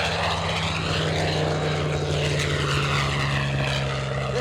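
Bell P-63 Kingcobra fighter plane with its propeller engine droning steadily and loudly throughout, a constant close roar with no talk over it.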